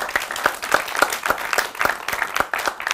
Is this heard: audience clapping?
yes